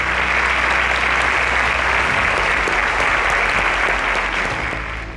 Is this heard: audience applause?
yes